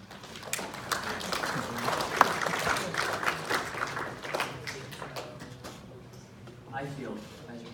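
Audience applause after a class midpoint presentation in a lecture setting, a burst of clapping from a small group that swells, then thins out, with some talking mixed in.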